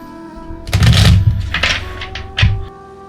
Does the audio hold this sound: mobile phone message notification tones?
no